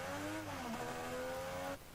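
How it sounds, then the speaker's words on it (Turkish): A Rocket League video game car engine hums steadily with a slight pitch rise, a smooth synthetic motor drone that cuts off near the end. "Normalde araba sesi bu."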